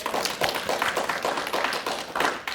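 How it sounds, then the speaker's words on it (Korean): A church congregation claps together at a year-end service, a dense, steady patter of many hands filling the room for a couple of seconds with no voices over it. "우리 하나님께 감사의 영광의 박수를 올려드리겠습니다"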